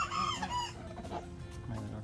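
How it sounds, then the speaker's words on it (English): A small white rooster and a mixed flock of chickens cluck and murmur close by on a cool, calm farm day, with a short crow-like call at the start. "And a cute little white rooster"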